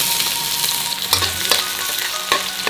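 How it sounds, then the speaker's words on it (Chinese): Shallots hitting hot oil in a home kitchen wok to start a sauce, a steady close sizzle with a few sharp stir clatters and spatula scrapes breaking through. "下个红葱头爆香的"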